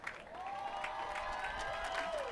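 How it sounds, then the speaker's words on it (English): Applause from a graduation ceremony audience at Berkeley City College, a steady burst of clapping under a tonal, whistle-like sweep, with voices faintly mixed in. "Please join me in another round of applause for our 2013 Dean's Medallion winners."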